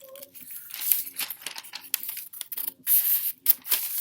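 Scissors snip through newspaper while cutting out a paper cat, a close series of short crisp cuts and rustling paper in an irregular rhythm.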